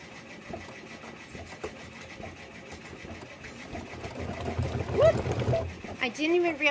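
An embroidery sewing machine hums and chatters steadily while stitching a Kimberbell quilt block, close and moderately loud, with brief talk in the background.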